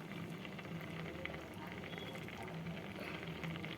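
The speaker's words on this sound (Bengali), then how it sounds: "এবার এটা সেদ্ধ হচ্ছে হোক" Mung dal simmers in a pot with turmeric, giving a steady, soft bubbling and gentle liquid patter that stays faint and even throughout, with no talk.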